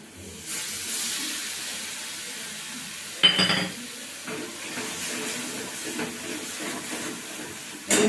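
Water pours into a pan to rinse in poppy seed paste, giving a soft, steady hiss and splash with a brief louder burst midway, nearby and fairly quiet.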